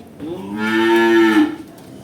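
A single loud, close moo from a pregnant dairy cow, long and drawn out, rising then fading, with nothing else around it.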